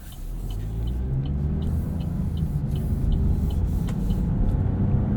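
A 2024 Buick Envista Sport Touring's turbocharged three-cylinder engine drives along, its low, steady hum and road rumble slowly building, quiet and continuous with no talk.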